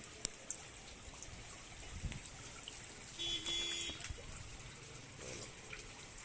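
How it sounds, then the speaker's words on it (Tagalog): Strong water rushes steadily through a canal under construction on San Jose Street in San Ignacio Subdivision, Pandan, a continuous broadband wash with a few sharp knocks and a brief tonal hum partway through. "Malakas yung agos ng tubig."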